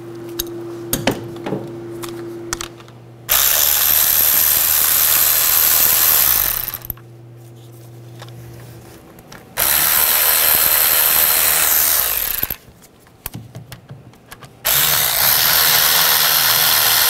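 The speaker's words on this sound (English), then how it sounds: "Take these three 10 millimeter bolts out. I'm just going to use a 10 millimeter socket." Power ratchet or driver with a 10 mm socket loosening three bolts on a 2004-2009 Toyota Prius during a fuel injector job, loud whirring bursts of several seconds each separated by quieter pauses and small tool clinks.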